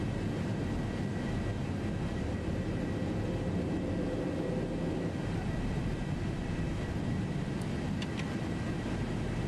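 A Boeing 737 climbs after takeoff in a simulated flight out of San Diego, its engines a loud, steady broadband roar with no talk heard.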